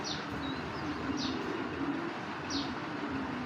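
Pigeons coo in soft, low, repeated murmurs over a constant background hum, with a few faint high chirps mixed in and no voices.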